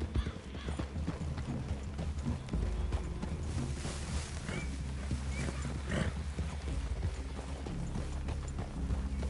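Horses walking through a clearing in a Western video game, hooves clip-clopping in a steady, close rhythm over a continuous low rumble of ambient game sound, with an occasional faint snort.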